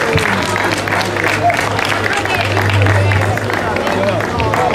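A large outdoor crowd applauds at the award ceremony of a slalom car race in Oppido Mamertina, a dense steady roar of clapping with a low engine hum and babble of voices underneath.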